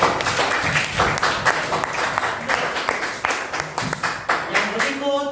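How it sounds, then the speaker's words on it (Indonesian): A classroom of students claps for group 1 in a religious education lesson, dense and lively applause at close range, with shouts and voices mingling through it. "kita berikan tepuk tangan untuk kelompok 1"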